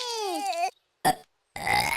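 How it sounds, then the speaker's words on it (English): A cartoon baby burps in short, loud bursts separated by silence, with cute babbling vocal tones around them. "You burped."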